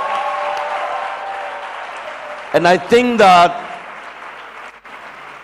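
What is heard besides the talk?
applause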